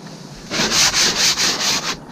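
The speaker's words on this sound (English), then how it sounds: "now that I'm up here sanding" Fiberglass-coated canvas on a truck camper roof is sanded by hand in quick back-and-forth strokes, about six rhythmic scraping passes, close and loud after a quiet start.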